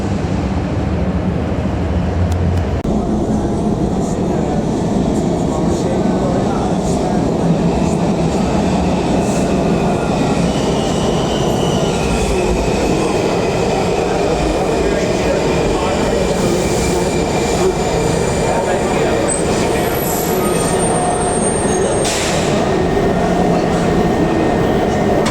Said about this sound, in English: Okay, so we just got the metro down to Freedom Plaza.